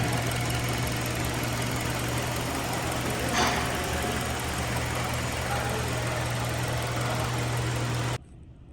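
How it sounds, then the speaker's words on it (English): A Kia Forte 2.0L MPI engine idles at about 700 RPM after warming up, a steady low hum with a constant drone and faint mechanical ticking, close and unbroken until it cuts off abruptly near the end. "this engine has been running for 15 minutes now, and the RPM is down to about 700 RPM"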